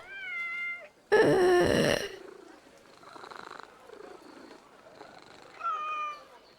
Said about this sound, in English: Can you pet the cat?